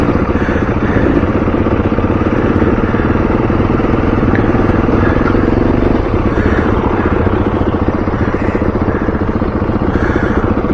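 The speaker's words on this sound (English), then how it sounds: "If I ride down here and lock my front wheel up, it doesn't actually" A trail motorcycle rides down a rut with its front wheel locking. Its engine drones steadily and loud from start to end at low, even revs, with some mechanical clatter.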